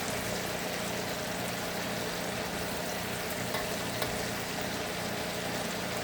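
Marinated beef for bistek tagalog fries in a pan with a steady, close, continuous sizzle and crackle, holding an even level throughout with no talking.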